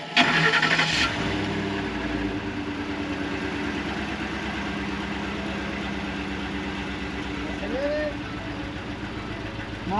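A pick-up truck engine in Ecuador cranks briefly with a loud burst, then settles into a steady, rough idle close by that runs unbroken throughout, with voices talking intermittently over it.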